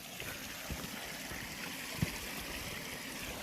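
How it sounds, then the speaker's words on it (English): Small waterfall beside a cross-country ski trail in the woods, a faint steady trickle and gurgle of running water at a distance, with one brief knock partway through. "Nice little baby waterfall."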